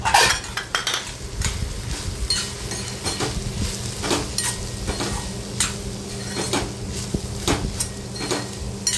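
A spoon scrapes and clinks against a pan while chili masala, hing and ghati spice mix are stirred together in hot oil, giving irregular metallic taps over a low sizzle, close and without talk.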